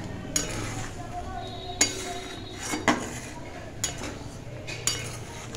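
A pot of boiled lentils comes off the stove in a home kitchen, with a series of sharp metallic clanks and clinks from the cookware at irregular intervals over a quiet background.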